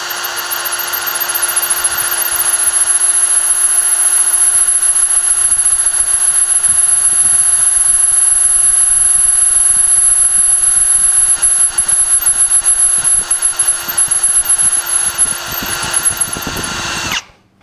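A power drill spins a hole saw bit at low RPM in a steady, loud, continuous whine with a grinding edge, running nonstop for about seventeen seconds before cutting off abruptly.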